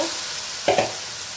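A spoon scrapes twice through boiled potatoes and chickpeas in a pan, two quick stirring strokes close by over a faint, steady sizzle.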